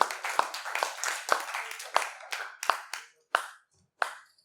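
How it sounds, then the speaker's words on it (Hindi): Audience applause at a Hindi poetry event, a burst of hand clapping that thins out into a few scattered claps, with a voice briefly heard over it. "एक बार जोरदार तालियां बजा दीजिए।"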